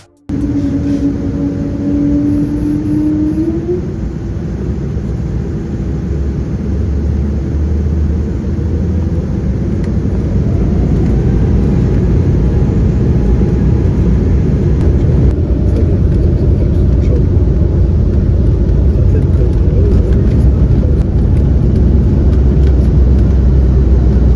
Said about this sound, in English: Following a relatively quiet engine startup, we began taxiing towards runway 33R